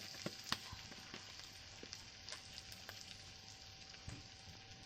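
Spice paste of turmeric, chili and coriander powder with salt sizzles and fries in a pan for an ilish fish head and water lily stem curry, a steady close crackle with small pops throughout.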